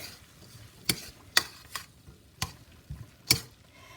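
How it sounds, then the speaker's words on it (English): A spoon stirs seasonings and garlic in a pot of dairy-free shrimp chowder, giving a handful of distinct scraping clicks against the pot at an uneven pace over a low, quiet background. "Let me give that a little stir."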